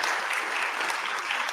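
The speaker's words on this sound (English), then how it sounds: "Big round of applause for Steve." Steady, dense applause from a conference audience in a full room, even and sustained throughout with no voices breaking through.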